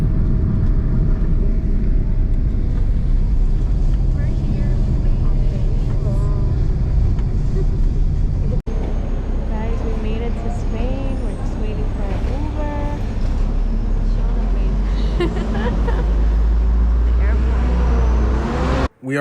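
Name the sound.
taxi ride in Madrid, car interior road noise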